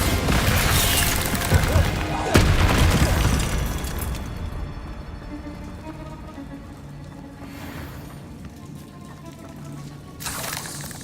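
Confringo and Bombarda spell explosions in Hogwarts Legacy hit as loud booms, with a big blast at the start and another near the end, and crackling debris fading between them.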